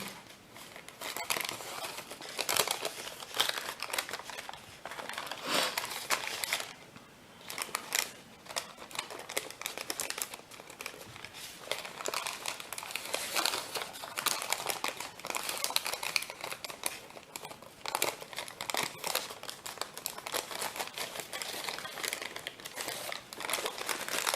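Origami paper folded and creased for a dobsonfly model, with continuous close crinkling and rustling and brief sharp crackles as the creases are pressed, briefly softer around the middle.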